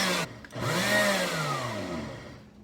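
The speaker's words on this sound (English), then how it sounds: "I pulse and blend until I get a nice fine powder." A kitchen blender motor whirs steadily, its pitch sliding as it grinds ingredients for homemade dog food into a fine powder. There is a brief pulse near the start, and the motor stays close and loud throughout with no voices.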